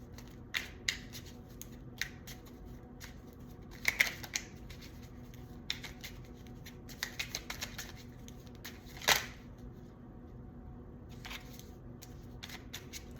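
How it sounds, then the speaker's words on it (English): Tarot cards being shuffled in quick riffling bursts, with soft clicks and flicks at close range and a few louder snaps; no talking. "Sorry guys, shuffling here, trying to get a read on the energy."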